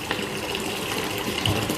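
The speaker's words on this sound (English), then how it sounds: "Fill up a bucket with hot water." Hot water running from a tap into a bucket, a steady close gushing and splashing wash that continues evenly throughout with no voices.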